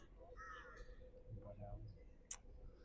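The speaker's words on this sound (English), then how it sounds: "We're on the ocean, so we got all the seabirds here, the cheeky little seagulls" Seagulls by the ocean give a few harsh calls that are partly overlapped by someone talking, followed by a sharp click near the end.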